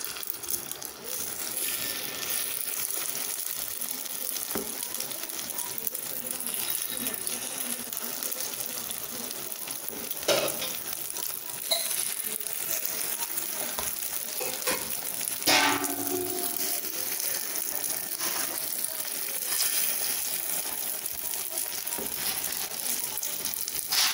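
Beaten egg batter is poured bit by bit into a hot oiled paniyaram pan, a continuous sizzling hiss rising in short bursts as each portion hits the oil, with occasional clinks of utensils.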